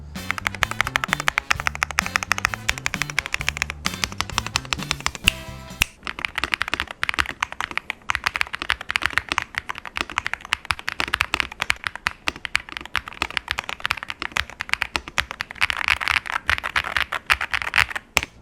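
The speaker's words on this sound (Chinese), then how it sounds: "首先让我们来听看这键盘打字音吧" Rapid typing on a second-hand Z75 mechanical keyboard, top-spec version, fitted with TTC Flame Orange light linear switches that bottom out early, gives a dense, steady stream of close, crisp keystrokes lasting throughout with no talking.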